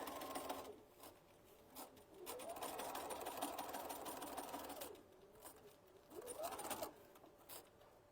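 Domestic sewing machine back stitching on a half apron for gardening, short bursts of quick rhythmic whirring that start and stop, with a faint bird cooing outside.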